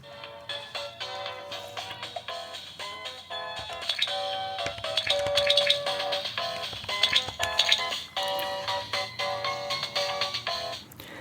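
Bright, tinny electronic game music and chiming effects play through the small mono rear speaker of a Data Frog SF2000 handheld console at moderate volume, with no talking.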